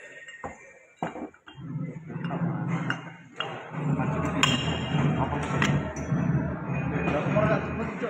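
Metal parts of a starter motor, the yoke and pinion drive lever, are fitted to the housing with two bolts, giving sharp clinks and taps of metal parts over a busy workshop background with some voices.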